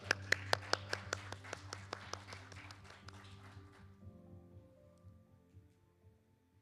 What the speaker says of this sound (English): So please join me in welcoming her with big applause.